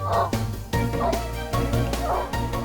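A dog barks and yips in short, loud, repeated bursts close by, with whimpering tones between them, during a scent-tracking test against a pepper trail.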